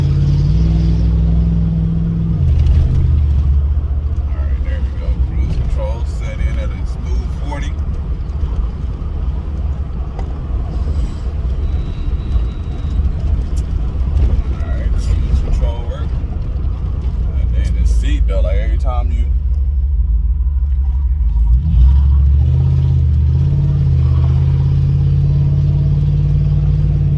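A car cruises at steady speed with cruise control set, its low engine and road rumble running continuously beneath someone talking through much of the drive.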